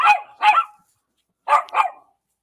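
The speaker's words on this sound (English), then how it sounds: "These dogs, all they do is bark." Dogs bark at night in two pairs of sharp, loud barks, each pair of quick yaps separated by a second of silence, close and alone.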